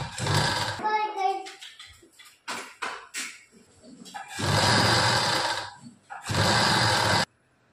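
Sewing machine top-stitching the lining of a kurti, with loud bursts of stitching that run steadily, pause while the fabric is handled with light knocks, then return in two long runs.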